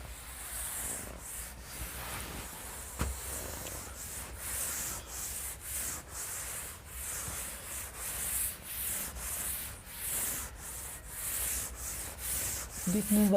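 A classroom writing board being rubbed to erase it, with steady back-and-forth scrubbing strokes repeating in an even rhythm, close and fairly loud throughout.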